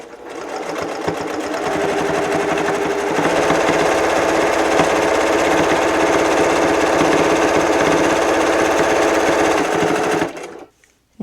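A sewing machine stitches a big U around a homemade reusable kitchen cloth, running fast and loud in one continuous, buzzing burst for about ten seconds before stopping abruptly.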